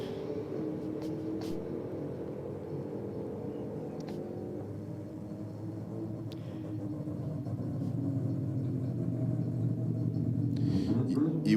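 A Toyota Corolla and an Audi wagon race side by side, giving a low, steady engine rumble that grows slightly louder toward the end, with voices talking over it.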